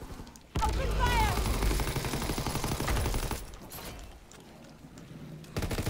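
Guns fire in a zombies video game during round 11: a dense, rapid burst of automatic shots for about three seconds, loud and continuous, then fading into quieter game noise.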